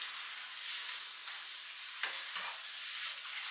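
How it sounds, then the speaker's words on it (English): Plantain chips frying in hot oil while being stirred, a steady close hiss of sizzling with a few soft scraping stir strokes and light crisp knocks of chips bumping together. "as plantain chips hit each other, it has this kind of crisp noise you hear."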